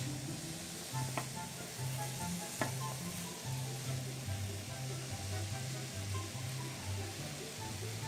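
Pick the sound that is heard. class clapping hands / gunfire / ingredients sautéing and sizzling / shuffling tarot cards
ingredients sautéing and sizzling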